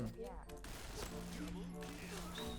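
Rapid bursts of gunfire from the online shooter game Point Blank crackle through the clip, mixed with game noise and a voice talking over it.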